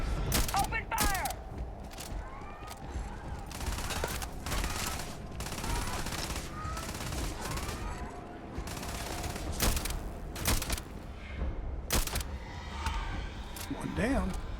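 Gunfire in Starfield crackles in repeated sharp bursts and volleys over a steady combat din, loud and close, with a voice talking at points.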